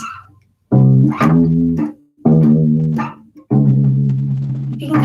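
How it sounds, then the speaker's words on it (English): Electric guitar plays slow, wavering swamp blues chords with a pulsing tremolo, three phrases separated by brief pauses, moody and bluesy. "tremolo guitar parts or trembling guitar parts"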